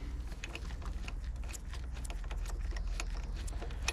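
Ratchet socket working a spark plug loose from a Yamaha Malta 3hp (6L5) outboard motor, giving a run of small metallic clicks and taps over a steady low background hum, close by with no talking.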